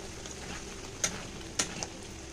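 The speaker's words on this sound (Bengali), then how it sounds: "এবার ভালো করে এটা কষিয়ে নেব দেখো কত ছিটাচ্ছে" Spice paste with ground cumin frying in a pan, a low steady sizzle with three sharp splatter pops, alone with no talk.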